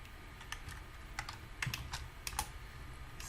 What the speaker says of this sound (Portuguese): Vamos digitar mais fácil